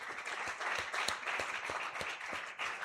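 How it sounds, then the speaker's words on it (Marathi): Church congregation applauding at a Pune service, a steady wash of many hands clapping together at moderate volume, sustained throughout with no voices over it. "त्यांनी जोरदार टाळ्या वाजवा बरं."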